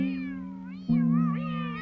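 A cartoon cat character, the Cosmic Cat, lets out two drawn-out, wavering meows, the second louder and starting abruptly just before the first fades, with no talk over them.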